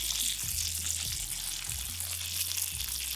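Pompano fillets frying in butter in a pan, a steady close sizzle and crackle with a few low bubbling pops, no voices.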